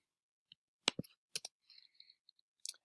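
Sharp, quiet mouse clicks on spreadsheet cells in a quiet room, arriving singly and in quick pairs with short pauses between them.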